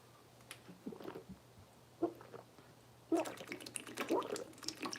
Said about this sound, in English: I drink this water like I used to drink a 40.